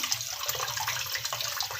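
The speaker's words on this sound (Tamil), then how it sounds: "இப்போ இன்னும் கொஞ்சம் தண்ணி ஊற்றி இதை நம்ம பிசைஞ்சிட்டு வந்துடலாம்" Water streams steadily into a bowl of tamarind being soaked for kneading while cooking an okra tamarind curry, a continuous splashing, gurgling pour close by with no talk.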